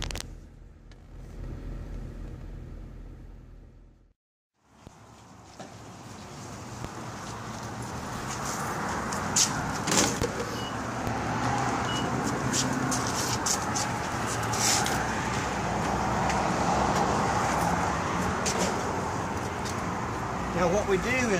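A car on a road test, its engine and road noise building into a steady loud rumble after a brief pause, with scattered clicks and rattles from inside the cabin.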